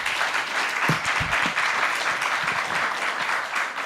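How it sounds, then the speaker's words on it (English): An audience at a conference plenary session on the responsible digital future gives a steady, sustained round of applause, even and continuous throughout, with a few low sounds under it. "Give them a warm round of applause."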